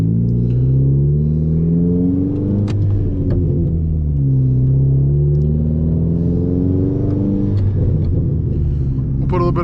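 A turbocharged 2010 Hyundai Genesis Coupe engine runs continuously, a deep droning rumble whose pitch rises and falls as it is gently revved to warm up, loud and close throughout.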